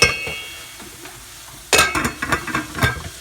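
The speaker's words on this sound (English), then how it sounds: "So once the onions are getting brown, drop the curry leaves. Okay, need to stir it well." Browning onions with curry leaves stirred inside a rice cooker, a faint low sizzle that turns into a sharp burst of crackling when the leaves go in, followed by several uneven scraping stirs.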